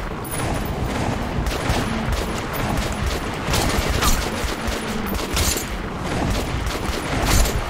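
Dense, continuous gunfire crackles throughout in Metro: Last Light, overlapping shots and bursts at steady loudness, like a busy firefight heard up close.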